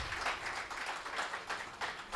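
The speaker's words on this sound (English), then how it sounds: "Round of applause, man." Scattered audience applause at a small business workshop, a thin, steady patter of hands with soft swells that carries on for a couple of seconds at moderate distance.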